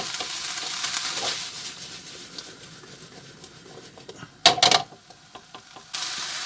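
Peppers and mushrooms fry in a pan for ground beef chili, with a soft sizzle and patter, then a loud clatter of the pan being shaken, followed by quieter sizzling.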